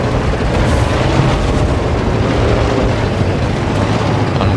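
Gunfire and explosions from the video game Battlefield: Bad Company 2 form a dense, loud, continuous battle rumble with heavy low-end booms and no clear breaks.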